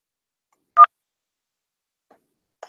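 Telephone keypad tones sound during a voicemail menu: one clear short beep, then two much fainter tones a couple of seconds later, in near silence.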